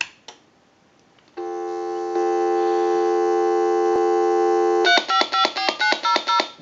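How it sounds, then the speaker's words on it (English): A Harris TS22 telephone test set putting out a steady dial tone, loud and close, then breaking into a quick series of rhythmic dialing tone bursts, after a few faint clicks. "So I want to go ahead and give you some dial tone."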